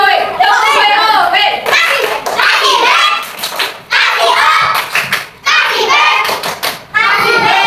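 Sixth-grade children in a classroom perform a patterned group clap, sharp bursts of hand claps and thumps in short rhythmic sets broken by pauses, mixed with loud children's voices and chanting.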